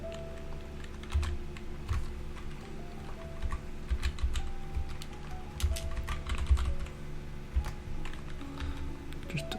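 Keyboard typing on a computer during Minecraft 1.16 play, a steady run of quick key clicks over a continuous low game background with no talk.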